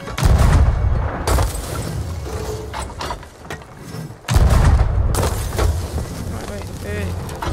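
Cannons boom aboard a pirate ship in the video game Sea of Thieves, two heavy blasts about four seconds apart with rumbling and clattering between them, loud and close, while players talk.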